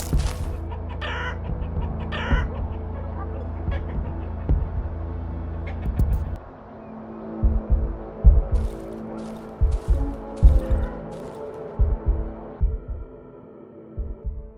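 Chickens belonging to an old woman's flock cluck and stir in the Darkwood horror game, short bursts scattered over a low, throbbing ambient drone.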